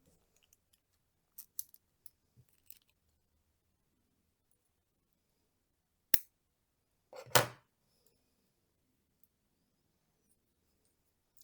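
Scissors snip thread while an earring is being made, a single sharp cut followed a second later by a longer, louder snipping stroke, close and isolated in a quiet room after a few faint clicks.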